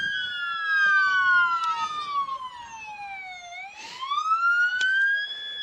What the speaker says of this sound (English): Blaring the sirens as he comes down Main Street here in Steele.